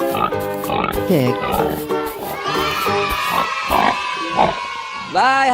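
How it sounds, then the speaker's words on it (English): A pig oinks and grunts in repeated short bursts over a busy mix of music and other animal-like sounds, ending with a rising squeal near the close. "Pig."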